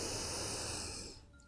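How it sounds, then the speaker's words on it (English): Ujjayi breathing during a hip-focused yoga session: one long, close, airy hissing breath that holds steady and then fades away near the end. "Take deep breaths in and out, listening in to the sound of the Ujjayi breathing."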